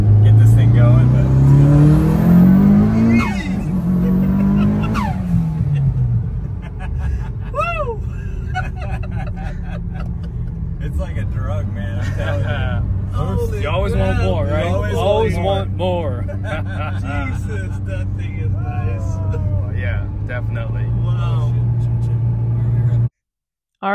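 A Mitsubishi Evo 8 with a 4G63 engine drives past, its engine rising and falling with revving gear changes. Long tonal squeals and whines run through, and someone talks over the car noise.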